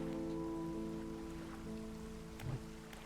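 Steady rain falling in the fishing game DREDGE, a soft continuous patter under a droning tonal hum, with one brief low thump near the end.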